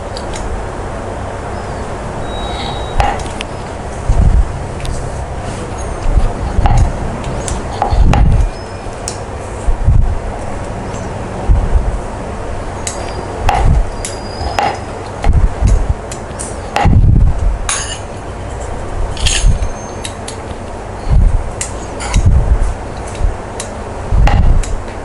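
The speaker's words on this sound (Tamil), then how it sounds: "கட்டர் வச்சு கட் பண்ணிக்கலாம்." Maida dough being cut into chip shapes with a cutter: loud, irregular knocks and thuds on a hard surface in uneven clusters over a steady background hum, with no one talking.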